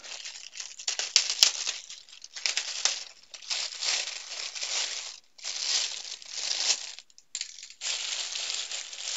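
A partly torn plastic bag of diamond painting supplies is crinkled and handled up close, with rustling, crackling bursts in irregular waves and brief pauses, no talking.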